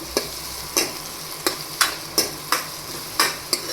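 Green onions stirred in a frying pan, a spatula scraping in a steady rhythm of roughly nine sharp strokes over a soft sizzle, close and clear with no voices.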